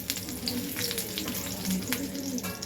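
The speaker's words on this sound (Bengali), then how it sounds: "দেখুন আমার বেগুনগুলো লাল করে ভাজা হয়ে গেছে" Eggplant slices frying in hot oil, a continuous close crackling sizzle with small popping bursts throughout, no talking.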